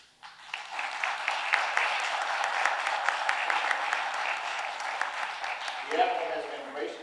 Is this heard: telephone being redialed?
no